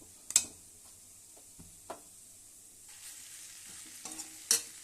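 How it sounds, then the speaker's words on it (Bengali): Sweet pumpkin fries in a pan in a home kitchen, a low steady sizzle broken by a few sharp scrapes and taps of a spatula against the pan. "এরকম মিষ্টি কুমড়োটা ভাজা ভাজা হয়ে গেছে, মাছগুলো দিয়ে দিলাম"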